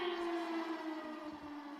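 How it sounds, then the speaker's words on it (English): Air raid sirens wailing across Ukraine during the Russian invasion, a steady sustained civil-defense tone with a slight downward drift, loud and continuous throughout. "Air raid sirens wail across Ukraine."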